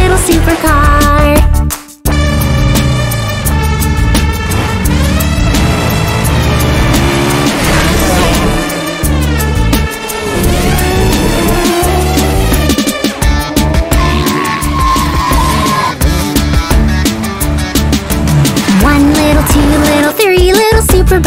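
Supercar racing effects, with revving engine sweeps and tire squeals, layered over loud, busy children's music that plays continuously throughout.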